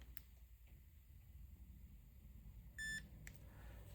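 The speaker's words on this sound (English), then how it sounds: "if I press that until I hear a beep" E-Collar Technologies remote control giving a single short electronic beep as its M/C button is held to configure it, clear and close against a quiet room, with faint clicks around it.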